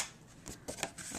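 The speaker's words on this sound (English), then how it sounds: "And then taking my scissors, I'll just trim off" Scissors trim excess paper from a stamped card-making project, a few quick snips and rustles of paper close by, with no talking.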